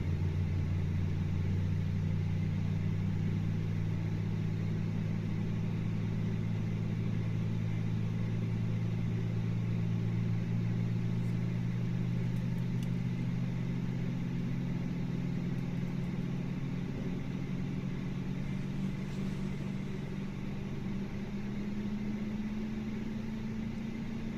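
Airbus A320 engines in Microsoft Flight Simulator, heard from the cockpit lined up on a runway: a steady low drone with tonal hum slowly rising in pitch, continuous and fairly muted, with no talk.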